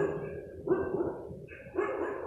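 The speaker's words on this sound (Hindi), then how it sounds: "अल्लाह अस्तग़फिरुल्लाह कुत्ते भौंकने लग गए" Dogs barking at night in a quiet residential setting, two bursts of barks at moderate distance.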